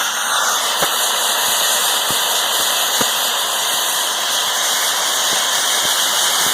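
Ultraline track torch cutting through steel plate, a loud steady roaring hiss of gas flame throughout with occasional faint clicks and crackles, close and continuous.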